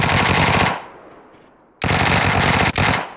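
Rapid automatic gunfire rattles in PUBG: one burst fades into a quiet gap, then a second loud burst starts, cuts out briefly, and resumes.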